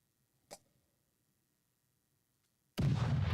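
Artillery bombardment in the Stalingrad wargame Cauldrons of War: a single short pop, then near-silence, then a loud, sustained rumbling blast that fills the end.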